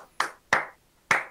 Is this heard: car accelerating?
no